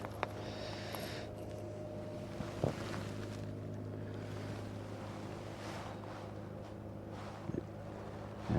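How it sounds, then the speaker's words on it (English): Wind rumbles across a microphone on a fishing boat on Lake Wylie, with a low steady hum underneath and a few small knocks and thumps near the end; no one speaks. "This wind's kind of pushing me."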